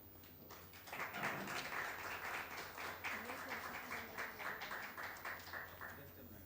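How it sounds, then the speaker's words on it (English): An audience claps at the inauguration of a public health policy and management program at PGIMER, Chandigarh: a quiet room tone, then a crowd's applause starts about a second in and carries on steadily to the end. "A big round of applause, please."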